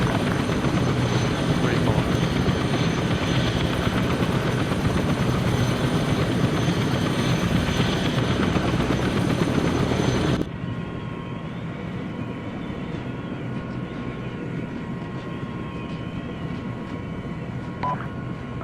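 Helicopter flight in the Arma 3 video game: a steady rotor and engine drone that runs loud, then drops abruptly to a quieter, thinner hum with faint tonal beeps, no talk heard.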